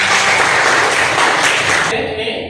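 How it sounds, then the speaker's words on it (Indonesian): Applause from a classroom audience at an Indonesian school lesson, dense and steady clapping for about two seconds before it abruptly thins and fades. "tepuk tangan untuk"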